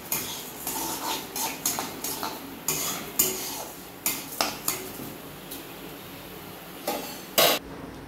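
Lentils for a mixed-vegetable khichdi frying in a pan, with a spoon scraping and clinking against the metal in irregular bursts over a faint background hiss, close and moderately quiet, no talking.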